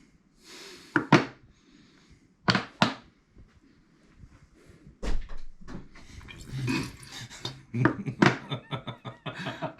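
A dog leaps up and attacks a window, making a string of sharp thuds and bangs at irregular intervals, some loud and close, with scuffling and rattling in between.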